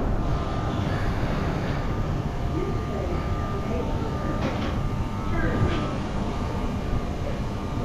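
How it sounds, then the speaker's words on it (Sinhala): A London Underground train rumbles at the Westminster station platform, a loud, steady low roar with faint squeals and someone speaking over it throughout. "මේක හැමතිස්සම ට්‍රේන්ස් එනවා."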